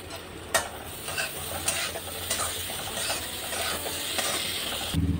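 Chopped ginger hits hot oil in a pan for potato and fenugreek-leaf curry, sizzling steadily while a spoon scrapes and clacks against the metal in several quick strokes.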